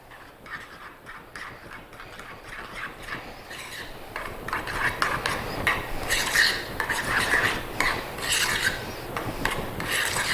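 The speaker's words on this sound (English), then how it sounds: "just want to stir this all together really well" A spoon stirs cheesecake batter with vanilla in a bowl, giving a continuous wet scraping rasp that grows louder and busier halfway through, with no talking.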